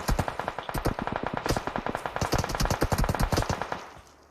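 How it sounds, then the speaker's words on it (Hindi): Automatic fire from DP and M4 guns in a video game battle: a long, dense stream of rapid, loud shots, nearly continuous and punchy, tailing off at the end with no speech. "भैया ऊपर से DP M4 सब चल रही थी एक साथ।"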